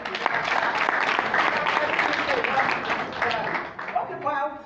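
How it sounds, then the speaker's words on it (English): An audience at a two-day retreat applauds in a dense, even round of clapping that fades slightly near the end, where a voice begins to speak. "Clap for you."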